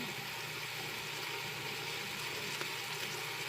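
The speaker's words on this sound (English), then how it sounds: "brown this Italian sausage up in the olive oil. You can hear that sizzle going." Steady, even sizzling of Italian sausage frying in olive oil, a constant hiss with no talking.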